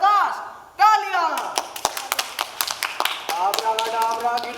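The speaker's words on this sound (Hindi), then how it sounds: "तालियां" Audience members clap at a stage play at Shri Ram Centre, a scattered run of distinct individual claps following a performer's sung line, with voices heard around them.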